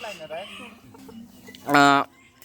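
A large white Turkish chicken gives a loud, brief squawking cluck near the end, after a few softer clucks over quiet background noise.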